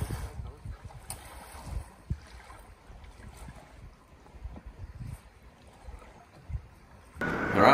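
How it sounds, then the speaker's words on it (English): Strong wind rumbles and buffets across open water on a kayaking trip, with gusty noise and a burst of heavy blowing near the end. "it's just really windy right now"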